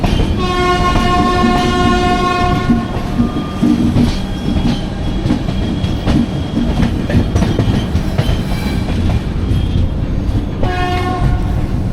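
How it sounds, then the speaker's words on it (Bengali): The Purvanchal Express from Gorakhpur to Kolkata rolls into Samastipur station, heard from inside a compartment as a loud, steady rumble of wheels with a train horn sounding at the start and again near the end. "সমস্তিপুর স্টেশনে ঢুকছে।"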